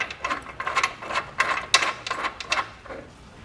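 Flat washers, split lock washers and hex nuts are hand-tightened onto bolts on a Chevrolet Spark base plate kit, giving a quick series of close, light metallic clicks and rattles with no talking.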